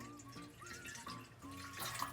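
Warm water poured into a measuring cup while baking with heavy whipping cream, a steady close trickle with faint splashing and dripping over soft background hum.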